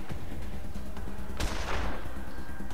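A single sharp gunshot rings out in the post-apocalyptic role-playing game Wasteland 2, a sudden loud crack with a brief decaying tail over a steady background of game ambience.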